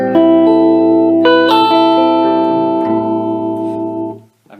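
A Les Paul with both humbuckers in the middle position plays through a Quilter Micropro Mach 2 amp with no reverb: clean sustained chords ring out in a few strums and then decay, dry and close.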